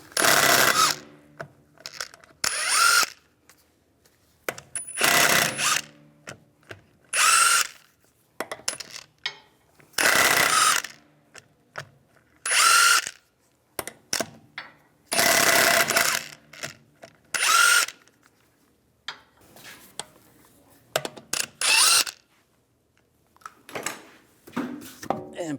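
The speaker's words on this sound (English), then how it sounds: "Take these lug bolts out." A power tool with a 17mm socket spins lug bolts out of a wheel on a 2001-2006 BMW 325Xi, giving about eight loud, close whirring bursts, each a second or two long, separated by quiet pauses.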